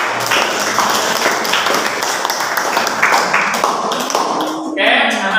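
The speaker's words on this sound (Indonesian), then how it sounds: "Ya, berikan tepuk tangan." Classroom applause breaks out after a student group's presentation, a dense patter of many hands clapping at close range for about five seconds, with a teacher's voice over it before it fades.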